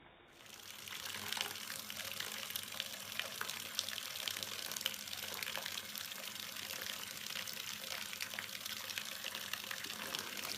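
Water in a toy water playset splashes and trickles continuously at low volume, a steady wash of bubbling and small splashes with no speech.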